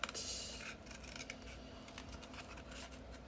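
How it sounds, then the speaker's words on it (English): Scissors roughly snip through paper while trimming a recipe album cover, a quiet, close run of crisp scratchy cuts in quick succession with no talking. "And then I take my scissors"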